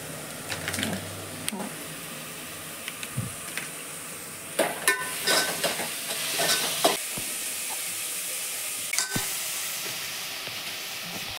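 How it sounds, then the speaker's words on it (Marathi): Whole spices and onion fry in a pan for a quick paneer biryani, a steady sizzle with scraping stirs and clinks, plus a brief burst of louder stirring midway; faint background voices drift in. "आता मी याच्यामध्ये खडे मसाले ऍड केले आहेत. कांदा आपला गुलाबी रंगावरती"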